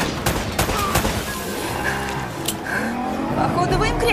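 Rapid gunfire crackles through an ambush firefight in the video game Uncharted: Drake's Fortune, with sharp repeated shots over engine and vehicle noise while voices talk throughout.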